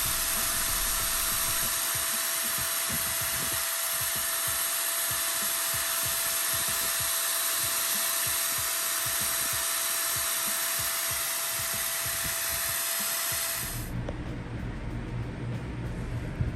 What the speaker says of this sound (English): so I just decided to re-drill it so I can start in the center